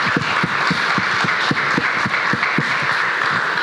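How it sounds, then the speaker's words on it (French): An audience applauding: a dense wash of clapping with some louder, evenly spaced claps standing out, steady throughout. "on peut l'applaudir, je pense, Laurence"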